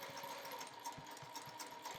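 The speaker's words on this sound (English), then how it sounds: "I'm going to line up and start sewing around here" A sewing machine stitches around a minky blanket, a soft, close, steady whir with light regular thumps of the needle.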